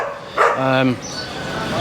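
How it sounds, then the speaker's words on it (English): A dog on a Kathmandu street gives a short bark and yelping whine, fairly close, with steady street background around it and a voice nearby. "the dogs aren't too happy that I'm here"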